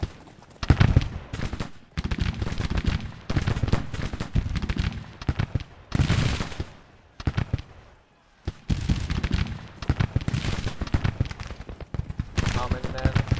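Musket volleys in a Civil War video game, with repeated rapid crackling gunfire bursts over about thirteen seconds and a short lull in the middle.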